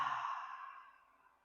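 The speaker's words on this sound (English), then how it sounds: "As you inhale, expanding the belly, and then open mouth, exhale." One deep, breathy exhale through an open mouth during a chair yoga breathing exercise, close and soft, fading out over about a second.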